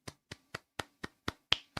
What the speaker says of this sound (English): Sorry, I have to applaud.